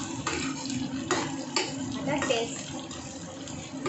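Brinjal (eggplant) pieces are sautéed in a little oil in a pan, with steady scraping and clattering of a utensil against the pan under a low, continuous hiss while a voice talks throughout.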